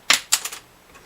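A plastic guitar saddle drops onto a hard surface and bounces: a sharp, clicky first impact, then three quicker, fainter rebounds that die away within about half a second, heard alone and close up.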